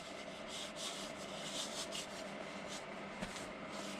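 A hand rubs oil into a wooden bowl that was turned on a faceplate, making a soft, close, quiet swishing rub in short repeated strokes. One small knock sounds near the end.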